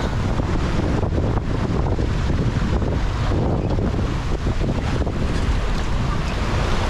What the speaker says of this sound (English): The wind increased and the fog kept creeping in surrounding us as we came closer to the narrow channel